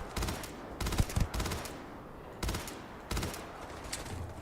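Gunshots ring out in Starfield, several separate short bursts of quick rapid fire broken by pauses, fairly close and punchy, with no talk over them.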